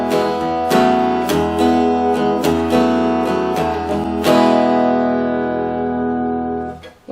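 A Yamaha FGX5 acoustic guitar with its piezo pickup blended with a microphone plays a loud, close strummed passage of several chords, ending in a long ringing chord that slowly decays.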